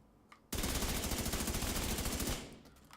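A sustained burst of rapid automatic gunfire in the video game Division 2, a dense rattle of shots lasting about two seconds after a brief quiet start, then trailing off into a short echoing tail.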